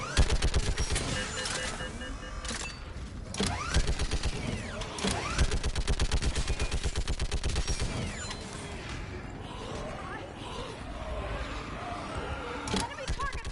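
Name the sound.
gunfire in the video game Mass Effect 3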